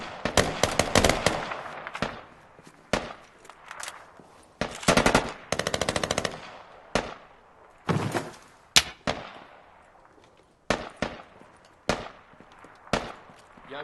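Rapid automatic gunfire from a teammate in the game Squad, loud close bursts and single cracks coming in irregular clusters with short gaps, no talking.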